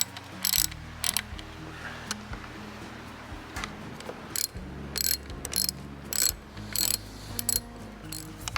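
Screws are tightened down on a Palomino camper actuator with a ratcheting tool: close, crisp clicking ratchet bursts repeat in short uneven runs over a low steady hum.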